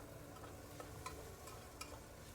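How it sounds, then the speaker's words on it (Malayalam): Spices fry in coconut oil over a low flame for a chicken curry, giving a faint, soft sizzle with a few small crackles and pops scattered through it. "ഇതെല്ലാം കൂടെ ഇട്ടിട്ട് ഒന്ന് ലോ ഫ്ലെയിമിൽ വെച്ചിട്ട് കളറൊന്ന് മാറണ വരെ നമുക്ക് വറുത്തെടുക്കാം"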